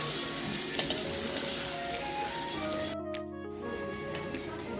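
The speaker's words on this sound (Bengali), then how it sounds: "উল্টে নিয়েছি, হালকা করে এই সাইডটাও ভেজে নেব।" An egg sizzles steadily in a hot pan, a bright continuous crackle with small pops, cutting out briefly before resuming.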